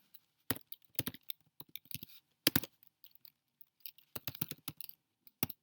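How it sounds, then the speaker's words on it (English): Someone types a name and email on a computer keyboard, giving quiet, close bursts of rapid key clicks separated by short pauses, with no talking. "So I'm going to type in my name, my email"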